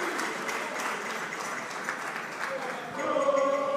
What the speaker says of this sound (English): A round of applause for both teams.